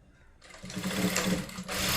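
A sewing machine runs steadily while stitching a blouse seam for a fitting, a close, continuous mechanical whir that starts after a brief quiet and then holds with only a small dip near the end.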